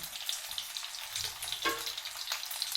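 Stuffed capsicum frying in a pan on a low gas flame: soft, continuous sizzle with light crackles and a brief stirring scrape, close but quiet, no talk.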